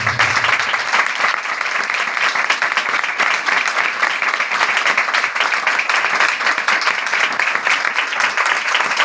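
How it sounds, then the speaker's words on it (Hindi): Church congregation at a Hindi-Urdu sermon breaks into loud, sustained applause, dense steady clapping from a large crowd filling the whole stretch without pause, no voices rising above it. "सबसे पहले खुदा की हुजूरी के लिए जोरदार तालियां।"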